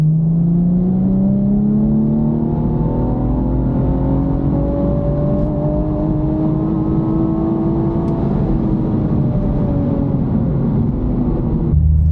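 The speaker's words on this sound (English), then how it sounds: "we are ready to go for the first stage 2 pull" A tuned BMW with a B58 engine accelerates hard on a stage 2 pull, its engine note climbing steadily in pitch for the whole stretch, loud and close with no talking.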